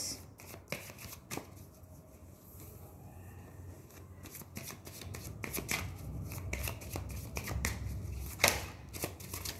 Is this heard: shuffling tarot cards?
yes